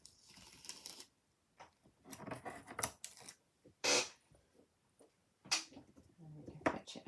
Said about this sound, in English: Take the last bit of tape off.